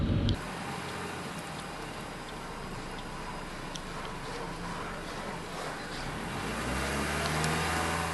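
A road vehicle fitted for specialised driver training drives steadily down the road, a continuous broadband tyre and engine rumble that stays close and even, with faint ticking from the indicators layered on top.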